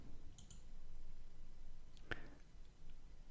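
A single sharp computer mouse click, near and crisp, with a couple of faint clicks earlier, against quiet room hiss.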